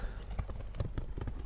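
A racehorse's hooves clop rapidly on the ground as it starts to run, a close, quick irregular rhythm of thuds over a faint background.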